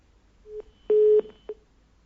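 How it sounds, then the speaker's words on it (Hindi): Telephone call line disconnecting during a live Hindi television news call-in, with short tonal beeps followed by a longer steady tone and a final short beep, clear and alone with no talk. "फोन लाइन डिस्कनेक्ट हो गई है"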